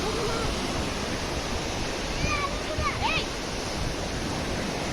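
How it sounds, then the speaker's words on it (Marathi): Sea waves roll in at high tide on Rangaon beach in Vasai, a steady broad wash of surf with faint bird chirps in the middle and no talk. "समुद्राला भरती आले बघा, समुद्र लागला भरायला"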